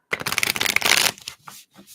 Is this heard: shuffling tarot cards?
yes